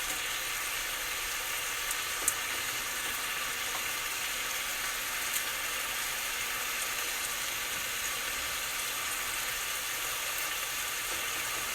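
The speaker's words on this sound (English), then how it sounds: "And sear them up a little bit." Salisbury steak patties sear in a hot iron skillet with a steady, faint, even sizzle and hiss. A couple of tiny ticks come through, with no other sounds.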